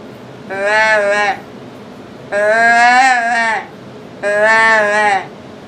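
Three drawn-out, nasal bleating calls from a deer call imitating a yearling fawn, each about a second long, with short pauses between, close and moderately loud with no other sounds.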